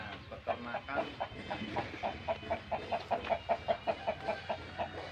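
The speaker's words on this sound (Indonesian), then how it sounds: "Tak sepilkan ini ayam jagonya, ayam betinanya komplit ya." A rooster and hens on a village farm in Wuryantoro, Indonesia, give a fast, even run of clucks. The clucking sits close over a steady background hum, with faint voices mixed in.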